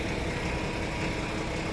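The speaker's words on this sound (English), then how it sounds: "Truck's idling now and we haven't been here long" A 2015 Peterbilt 579 truck's diesel engine idles in a steady, low, continuous rumble, even and unbroken.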